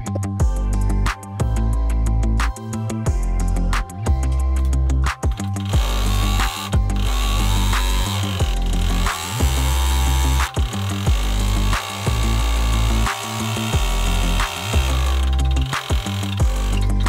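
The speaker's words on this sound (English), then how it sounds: "Now let's sew the black straps." A machine stitching black leather bag straps and handles, running in steady loud mechanical bursts with a rhythmic clacking and whirring, punctuated by brief stops and restarts.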